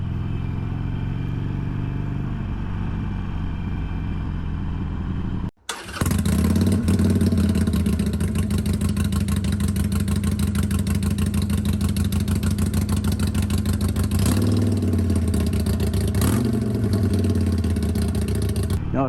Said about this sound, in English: So this is what it sounds like with that sewing machine of a stock exhaust